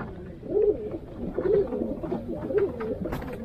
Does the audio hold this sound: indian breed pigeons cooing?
yes